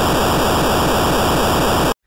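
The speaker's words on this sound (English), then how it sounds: "and white noise." An 8-bit chip white noise tone played in the OpenMPT tracker, a loud, even hiss of static that holds steady for about two seconds and then cuts off abruptly.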